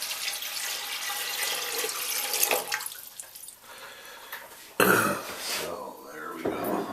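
Tap water runs and splashes into a vessel while measuring it out for brewing an American wheat extract beer, a steady hissing flow that stops and starts again, with a throat clear and brief talk between.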